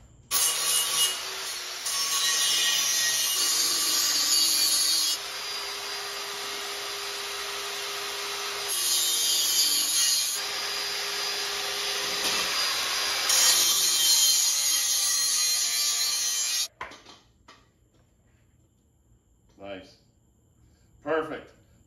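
Angle grinder cutting small square slots in steel tubing for a receiver hitch umbrella stand, a loud continuous whine with brief pauses for about seventeen seconds, then stopping; a person speaks briefly afterward.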